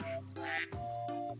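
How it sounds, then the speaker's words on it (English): Two short nasal duck quacks, close and clear, with a brief gap between them, heard alone in a children's animal-sounds lesson. "A duck says quack, quack."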